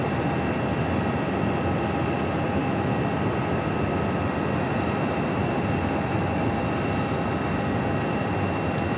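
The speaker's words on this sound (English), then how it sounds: "SkyWest CRJ pushing back." A SkyWest CRJ regional jet pushes back at Phoenix Sky Harbor airport, its engines giving a constant broadband whine and hum with a faint steady tone, loud and unbroken across the span, with no talk.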